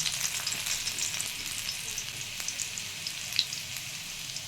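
Soft, steady sizzling of garlic frying in hot oil, with occasional small pops and crackles, close by and fairly quiet.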